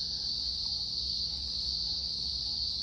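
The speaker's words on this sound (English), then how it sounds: "You hear those cicadas?" A steady, continuous high-pitched insect drone, like cicadas chirping nonstop without a break, with faint low rumble underneath.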